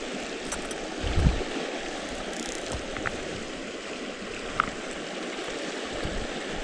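A small mountain stream at the headwaters of the Grand Canyon flows with a steady, close rushing and gurgling wash. A few faint knocks and splashes sit on top, and nobody speaks.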